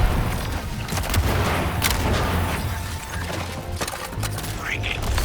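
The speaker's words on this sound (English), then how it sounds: "Bringing fire. I'm firing on Joker!" Rapid gunfire and booms in Suicide Squad: Kill the Justice League, bursts of cracking shots and impacts under game music, with voices talking over the action.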